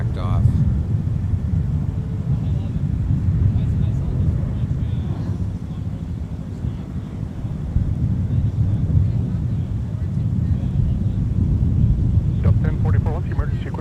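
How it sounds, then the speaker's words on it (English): A jet airliner taxiing under its own power at Minneapolis–St. Paul airport after an emergency response, a low, steady engine rumble with wind buffeting the microphone throughout. "It's taxiing under its own power now."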